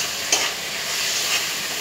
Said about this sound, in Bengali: দেখতে পাচ্ছেন আমরা শুকনো কিন্তু নাড়ছি।